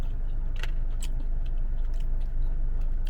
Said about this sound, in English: Just by chewing it